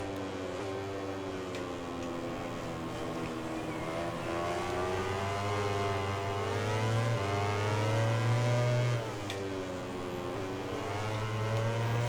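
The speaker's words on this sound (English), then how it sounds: "I can hear his KTM engine revving right behind me." A motorcycle engine revs steadily in MotoGP 20, its pitch rising and falling through gear changes with a second bike, a KTM, droning close behind.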